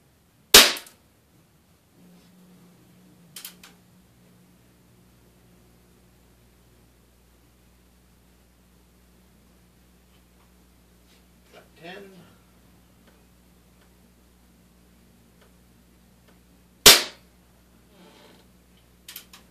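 A Daisy air rifle fires .22 wadcutter pellets, two sharp isolated cracks many seconds apart, with faint clicks and soft handling noises between and a low steady hum underneath.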